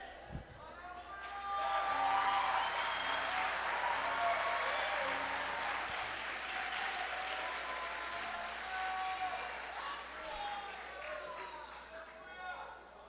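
A church congregation applauds during a sermon, a broad sustained clapping that swells and then holds steady, with voices mixed faintly underneath.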